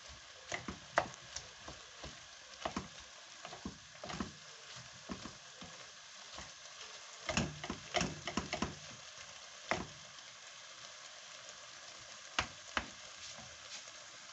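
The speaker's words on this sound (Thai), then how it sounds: "เดี๋ยวเราจะผัดขยี้ให้เขาหมูเขาจับกันเป็นก้อนนะคะ" Minced pork filling for spring rolls being stir-fried and broken up in a pan, with a soft steady sizzle and irregular scraping, tapping spatula strokes, faint and close, no talking.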